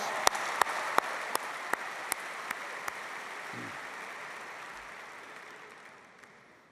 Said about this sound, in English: Let's give yourselves a big round of applause.